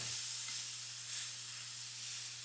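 A steak sizzles steadily in a hot pan just after being flipped, a constant close hiss with slight swells and no talking.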